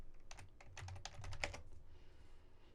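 Quick typing on a computer keyboard to enter a command, a close run of crisp key clicks in a fast burst that tapers off into quiet.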